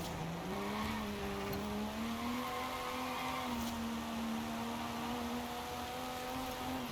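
Racing car from Forza Horizon 5, a D class build with huge horsepower, its engine droning steadily and slowly climbing in pitch as the throttle is eased on, loud and continuous with faint tire noise and no talk.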